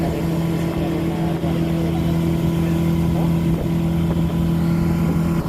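A speedboat engine drones steadily and loudly on Kakkayam reservoir, a constant motor hum with wind and water noise throughout, no breaks.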